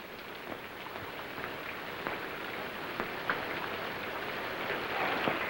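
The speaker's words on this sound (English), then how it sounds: "Hurry up, it's raining." Steady rain falling outside at night in a 1945 film scene, a continuous even hiss with scattered drop patter, no voices over it.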